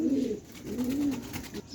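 A young Salara Teddy pigeon coos softly and close, two low warbling coos in succession, alone with no talk.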